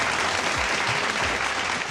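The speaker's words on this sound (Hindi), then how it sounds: "शेफ गुलजार के लिए बहुत सारी तालियां।" Studio audience applauding for Chef Gulzar on a Pakistani Independence Day television show, a dense, loud burst of clapping filling the whole clip.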